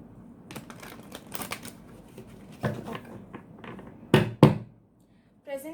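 A deck of tarot cards is shuffled close by in quick clicking, flapping bursts, ending in two sharper riffles before a brief pause, with someone speaking quietly in between.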